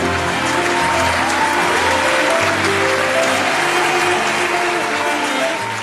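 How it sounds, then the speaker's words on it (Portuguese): A large crowd applauds loudly and continuously, a dense, even wash of clapping throughout. "uma calorosa salva de palmas."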